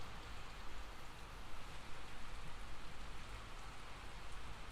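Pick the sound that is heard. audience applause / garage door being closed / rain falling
rain falling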